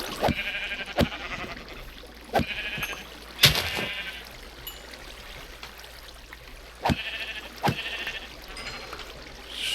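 Several sheep bleat in a Minecraft world, short repeated cries spaced a second or two apart, fairly close and clear over a low steady background hum.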